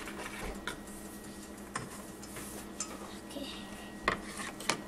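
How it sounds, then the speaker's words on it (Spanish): Strawberry pancake batter is stirred in a bowl, quiet scraping and rubbing broken by a few sharp clinks of utensil against the bowl, faint and close. "ya acabé de mezclarlo bien"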